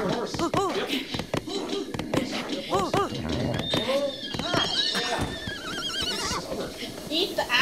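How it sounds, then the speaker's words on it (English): Several horse neighs and whinnies from a horse in Zelda: Breath of the Wild, loud and repeated, with hoof clip-clops and someone talking over them throughout. "He's a proud Mustang."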